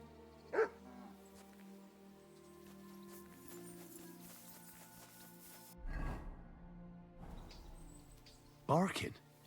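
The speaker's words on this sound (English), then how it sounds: "Barking." A dog barks in the medieval open-world game Kingdom Come: Deliverance 2. A few separate barks and yelps ring out over a humming in-game background, with brief rustles between them.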